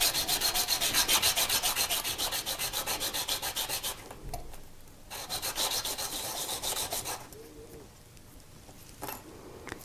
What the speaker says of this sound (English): And now I'm going to sand this.